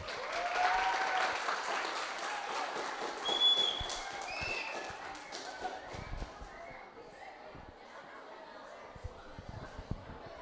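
An audience at a cultural seminar opening for a cowboys' festival in Brazil gives a steady round of applause, the clapping fairly close and continuous for several seconds, with faint chatter and a brief whistle-like tone mixed in.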